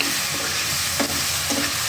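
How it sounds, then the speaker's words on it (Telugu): Masala sizzling and frying in a pan for a homemade prawn curry, a steady close hiss broken by a couple of soft stirring scrapes of a spoon against the pan. "ఇప్పుడు మసాలా వేసుకోవాలి. మసాలా వేగాలి."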